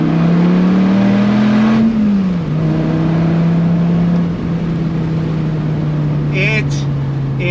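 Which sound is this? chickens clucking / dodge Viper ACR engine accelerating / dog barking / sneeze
dodge Viper ACR engine accelerating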